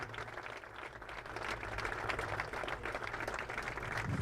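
A crowd at a high school football game applauds in a steady, distant, faint wash of clapping that grows slightly stronger toward the end.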